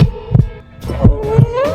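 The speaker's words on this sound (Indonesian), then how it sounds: "Gila, detak jantung gue." A heartbeat sound effect from the video game Sakura School Simulator thumps in close, loud double beats at a steady rhythm, with a faint tonal hum underneath.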